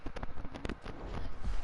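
Quick, uneven clip-clop of horse hooves in the video game Red Dead Redemption 2, a short run of light thuds close by with a soft background hiss.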